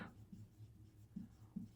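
A pen scratches out writing on paper at close range, with short strokes in an uneven rhythm. The sound is quiet and there is no talk over it.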